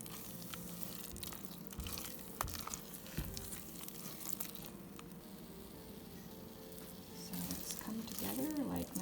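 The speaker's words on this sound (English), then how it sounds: "make sure that you got it on like a medium heat and that you're stirring constantly" Thick homemade bakeable clay mixture being stirred constantly in a pot over medium heat, giving soft squishy, wet churning sounds with faint sizzling under a low room hum, steady and close throughout.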